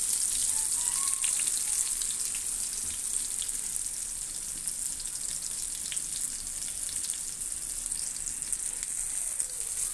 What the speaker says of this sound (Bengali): তো আমার বেগুন ভাজাগুলো হয়ে এসেছে।